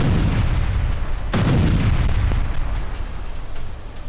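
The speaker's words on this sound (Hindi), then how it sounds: "किम के हर धमाके में एक पैगाम होता है। इस बार भी आर्टिलरी के इन धमाकों से साउथ कोरिया को चेतावनी दी गई है।" North Korean artillery firing, heavy booming blasts over a loud rumbling background, with one sharp close report standing out and fainter distant booms trailing after it.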